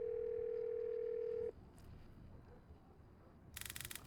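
A landline telephone dial tone in the Roblox video game gives a steady single-pitch hum for about a second and a half, then cuts off into faint background noise and a brief burst of static.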